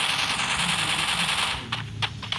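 Rapid automatic gunfire in the mobile shooter Free Fire, a loud continuous burst of fast shots that cuts off, followed by a few scattered single shots.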